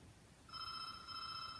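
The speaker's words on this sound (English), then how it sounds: "I better just answer the phone" A telephone rings once indoors in a steady electronic trill lasting about a second, faint and close, with no talking.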